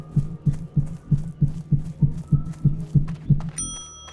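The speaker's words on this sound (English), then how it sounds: "center the heartbeat, and off we go" Accessibility heartbeat cue in World of Warcraft Classic: a steady, evenly spaced low thump repeating about three times a second, ending in a brief bright chime.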